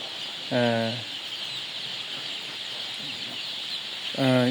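Two loud, close clucks from a chicken, one near the start and one at the end, over a constant hiss of background noise.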